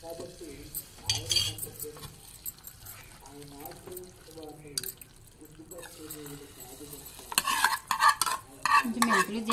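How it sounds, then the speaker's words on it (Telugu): Tempering of fenugreek and cumin is tipped into cooked dal and stirred, with metal clinks of utensil against pot and a sizzling splash. A person talks over the scraping and stirring throughout. "పప్పులో పోపు అయితే వేస్తున్నానండి"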